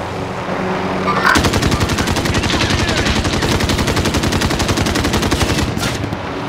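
Gunfire in the video game Call of Duty: Modern Warzone, a long, steady automatic burst of rapid, even shots lasting about five seconds, loud and close amid battle noise.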